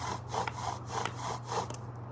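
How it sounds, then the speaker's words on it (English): A wooden bow drill spindle grinds a seating divot into a fireboard, making a soft, close rasping that pulses back and forth in regular strokes, roughly three per second. "just kind of making a nice divot there so that for the spindle to sit."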